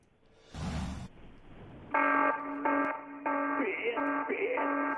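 On a radio show, a burst of noise is followed by a loud, repeating electronic alarm tone sounding in short pulses with brief gaps, clear and alone without talk.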